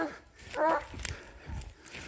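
Dog on a leash, thirteen months old, whimpering and yipping in short, close, high-pitched bursts while tracking a pig outdoors, with a voice softly urging it on.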